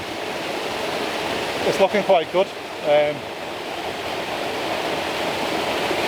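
Unicorn Falls waterfall roars as a steady, full rush of falling water, continuous throughout, with someone talking briefly over it partway through.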